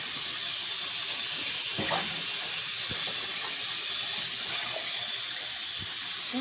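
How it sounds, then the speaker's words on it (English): Tap water runs steadily into a sink while a puppy is being bathed, a continuous broadband hiss that stays even throughout with no voices. "Washing the puppy."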